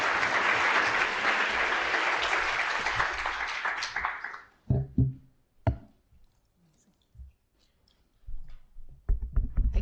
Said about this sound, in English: So a big round of applause for Grace.